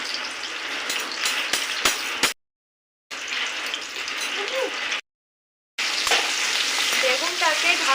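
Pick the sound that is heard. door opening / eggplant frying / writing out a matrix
eggplant frying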